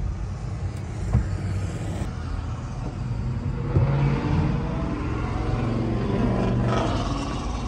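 Steady, loud engine rumble of a Chevy ramp truck idling up in the mountains, droning continuously with a slight swell in the middle and no voices.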